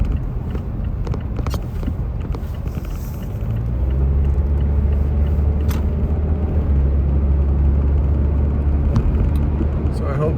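A car drives through night streets covered in snow and ice, its low engine rumble and road noise steady throughout, growing heavier and fuller partway through.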